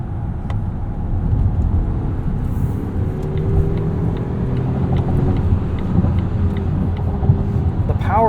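A 2020 Volvo XC90 Hybrid T8 Inscription with a smooth 400 horsepower drives along, giving a steady low engine and road rumble with a faint rising hum, while someone talks over it.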